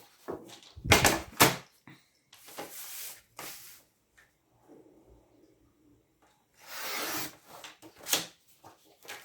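A blade cuts through paper while pages are being crafted: rough scraping and rasping strokes come in separate bursts, close and fairly quiet, with pauses and faint rustles between them.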